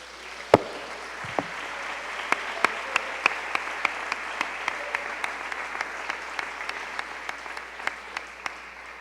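A church congregation claps steadily in rhythm as an offering to the Lord, sharp regular beats about three per second over a low murmur of crowd noise.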